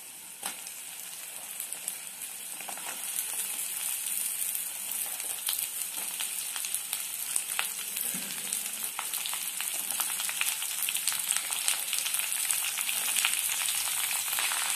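Cut okra (bendi) frying in a pan, a fairly quiet, even crackling sizzle that runs continuously and grows slightly busier, with faint stirring scrapes and no voices.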